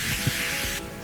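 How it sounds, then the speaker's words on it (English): Avocado oil sprayed from a can onto chicken thighs on a grill at medium-high heat, a loud continuous hiss lasting under a second that stops abruptly. "I like the spray oil. This is avocado oil again."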